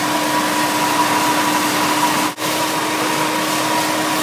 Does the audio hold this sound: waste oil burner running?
yes